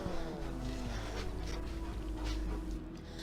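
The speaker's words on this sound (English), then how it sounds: "I'll rev it up." A small-displacement turbocharged engine in an Abarth 500 hatchback with a five-speed gearbox runs steadily and loudly at close range, a sustained low rumble with a slight rise in revs, no talking.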